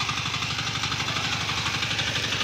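A 10 hp diesel mini tiller engine runs steadily up close, with a loud, even chugging rhythm and a dense mechanical rattle throughout.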